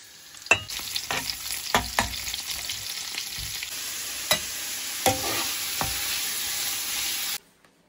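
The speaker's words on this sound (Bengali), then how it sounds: "পিৎজা বানানোর জন্য মাংস, ক্যাপসিকাম, পেঁয়াজ এগুলো হালকা একটু ফ্রাই করে নিচ্ছি।" Meat, capsicum and onion frying together for a pizza topping, with a steady sizzle punctuated by sharp spatula knocks and scrapes against the pan before cutting off abruptly.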